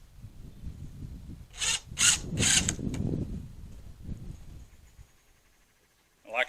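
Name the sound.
drilling wood for the egg mobile walls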